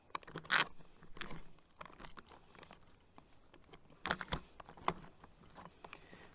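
Food being mixed and squeezed inside a pouch at a campsite, giving close, irregular crinkling and crunching bursts of plastic handling with short pauses between.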